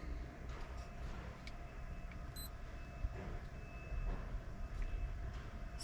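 A Tractive GPS cat tracker gives a single short, high, thin beep partway through, faint against a low background hum.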